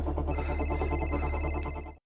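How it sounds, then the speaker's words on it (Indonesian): A film telephone rings with a steady electronic trill, loud and continuous, alone for about two seconds before cutting off abruptly. "Sementara itu Kanma yang menculik Jacob mendapat sebuah telepon dari Chris"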